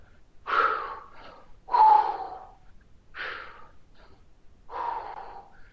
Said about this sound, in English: And we should be breathing with every rep.